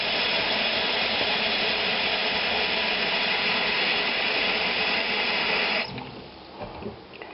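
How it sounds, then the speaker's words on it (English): A kitchen sink filling from the tap with a steady loud rushing stream for several seconds, then the flow stops and leaves faint drips and clatter. "So now I'll put it in the sink and fill it up with a bit of water."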